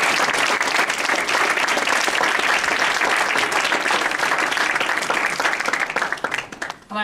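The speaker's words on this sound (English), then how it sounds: "So I think we should give a round of applause to the conceptor of all of this." Loud, dense applause from an audience after a speech, many hands clapping continuously up close, holding strong before tapering off near the end.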